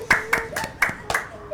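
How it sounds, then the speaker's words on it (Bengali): Children clapping together for a classmate in a classroom, five uneven bursts of hand claps in quick succession, close and moderately loud. "আমরা ওর জন্য সবাই একটা হাততালি দিয়ে আসো"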